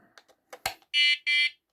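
A few soft clicks and a tap, then two loud, high electronic beeps in quick succession, each about a quarter second, from a Prologic carp-fishing bite alarm receiver.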